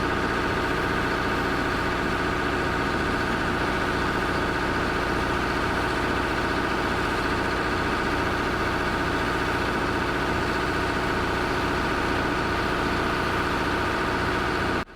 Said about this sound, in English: The excavator inches forward, wheels grinding against jagged rock, balancing tons of steel on a knife-edge path